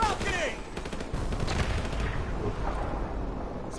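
Dense gunfire and bursts of automatic weapons fire at a balcony in Call of Duty Modern Warfare Remastered, loud and continuous across the whole stretch with booming low rumble and a voice mixed in underneath.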